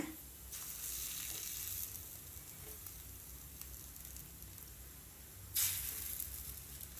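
Beaten egg poured onto a chapati in a hot pan gives a continuous soft sizzle and hiss that runs throughout, with one brief louder spatter near the end.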